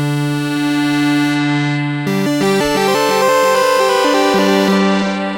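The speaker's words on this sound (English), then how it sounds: "We've got a reverb and delay." Erica Synths SYNTRX II modular synth patch plays shifting stepped tones through delay and reverb, a loud sustained harmonic drone giving way to rhythmic note changes with echoing tails, no voices.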